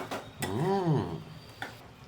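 Spoon stirring sliced bananas and fenugreek in a pan for a Gujarati vegetable dish. A sharp clink, then a drawn-out scraping squeal that rises and falls, and another light clank of utensil on metal.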